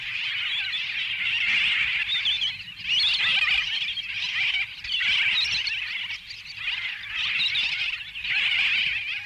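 Terns in a crowded colony squabble with shrill, overlapping harsh calls that come in bursts and brief lulls, loud and close, without any talk.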